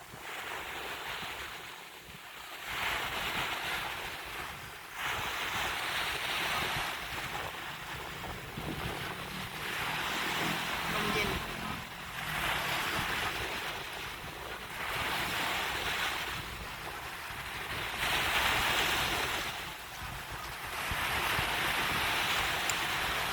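Steady surf rolling onto Jomtien beach, swells rising and falling every few seconds, with wind buffeting the microphone throughout.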